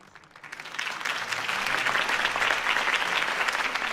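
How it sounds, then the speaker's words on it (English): Applause from a crowd in Batman: The Telltale Series swells up quickly and holds as steady, dense clapping for several seconds with no voices over it. "could have heard that applause"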